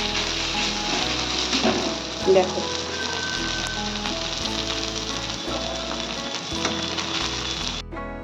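Parshe fish, potato and green banana frying in hot oil in a pan for a fish curry, a steady loud sizzle with occasional stirring clatter and a brief spoken word.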